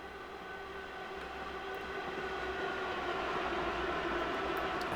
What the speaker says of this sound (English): I can hear a passenger train